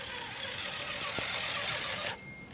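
An Axial SCX10 RC crawler truck drives along with a steady, thin electric whir and hiss that is fairly close and constant, then shifts abruptly near the end. No one speaks.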